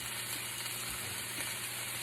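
Butter and oil sizzle in a hot pan before mushrooms go in. The hissing fry is dense and unbroken, close and continuous for the whole moment.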